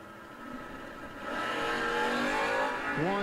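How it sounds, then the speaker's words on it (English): Drag racing at a Top Bulb event: a foot-braked Buick Apollo lines up against a Mustang II. A loud, close engine roar swells and revs upward, with climbing pitch near the end and no talk. "Lee dialed in at a 665 in the foot braked Buick Apollo. Against the 637 for Mark Brewer. In the Mustang 2."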